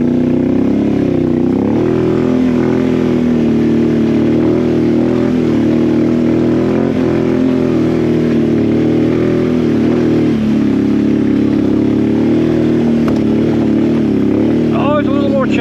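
Can-Am Outlander 850 XTR ATV engine climbing hills drones loud and constant, its pitch wavering gently with throttle, a dense, unbroken roar close to the microphone.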